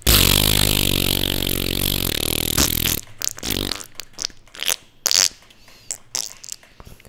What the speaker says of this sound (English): That was the worst fart ever.